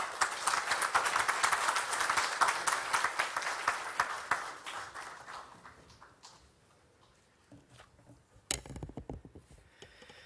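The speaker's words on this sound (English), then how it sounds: "Please welcome Mr. Bose with a huge round of applause." An audience at a Bollywood book launch gives a speaker a warm welcome with clapping that is strong at first, thins out and dies away after about six seconds, then returns in a short scattered burst near the end.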